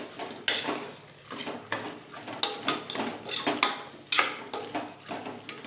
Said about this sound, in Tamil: மஞ்சத்தூள், நல்லா வதக்கிக்கலாம்.